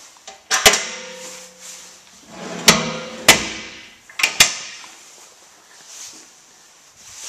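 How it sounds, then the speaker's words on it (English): The door of a heavy-duty trailer truck body is shut several times, giving sharp solid metallic bangs and latch clicks, each followed by a short ringing decay, with quiet pauses between. "Let's close the door and hear how it sounds."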